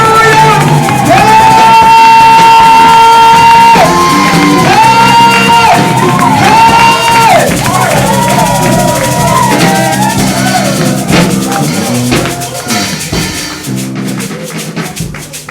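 A church congregation in Rwanda ululates in celebration at a Bishop's year-end service, long high wavering trills rising over loud crowd cheering and shouting, sustained throughout and thinning toward the end.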